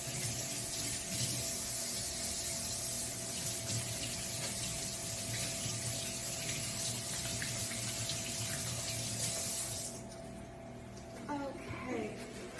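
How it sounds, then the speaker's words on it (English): Tap water runs steadily into a kitchen sink as hands are washed during dinner preparation in Cartagena, Colombia, a constant close rush that eases and thins near the end. "I'm gonna wash my hands real quick"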